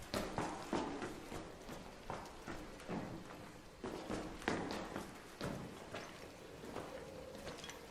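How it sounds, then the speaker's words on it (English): Footsteps in a video game, a steady series of thudding steps with a clip-clop quality, fairly close and continuous over a dense background. "I hear footsteps."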